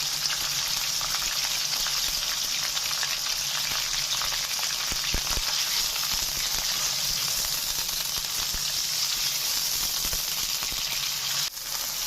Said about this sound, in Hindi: फ्राई करेंगे जब तक ये बिल्कुल सफेद ना हो जाए।